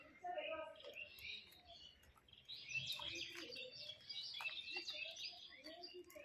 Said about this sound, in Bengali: কিভাবে আমার ঘুঘু পাখিগুলো ঝগড়া করে